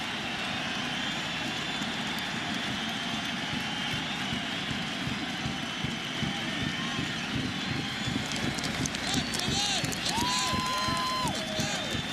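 Crowd at Fenway Park on a raw night during Game 2 of the 2004 World Series, Cardinals at Red Sox, a broad sustained roar of cheering under a commentator's voice.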